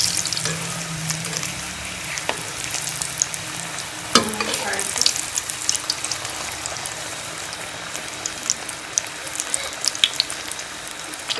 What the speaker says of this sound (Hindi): ऑयल हमारा गर्म हो गया है, इसमें हम समोसे फ्राई कर लेंगे। तो समोसे डाल के जो है वो फ्राई कर लेंगे।